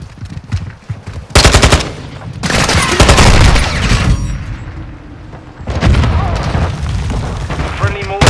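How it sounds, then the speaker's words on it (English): Call of Duty: Modern Warfare II gameplay with loud mortar explosions and bursts of automatic gunfire, booming blasts and rattling shots coming in repeated waves, close and intense, with voices talking over parts of it. "Friendly mortar down. Close one."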